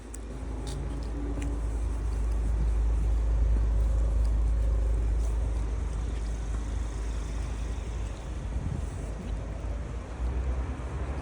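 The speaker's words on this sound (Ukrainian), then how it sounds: "Тут машинки трохи катаються." Cars driving along Khreshchatyk street in Kyiv in December, a steady low rumble of passing traffic swelling and easing as vehicles go by, moderately close, with no voices.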